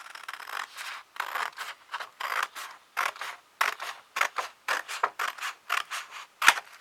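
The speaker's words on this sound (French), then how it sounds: "Je vais découper juste ce que j'ai besoin." Scissors cutting through a cardboard box for a homemade desk organiser, a series of crisp rasping snips in an irregular rhythm, close and clear, with a sharper click near the end.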